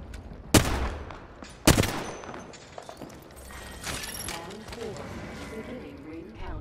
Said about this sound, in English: just shoot a few times with your gun right now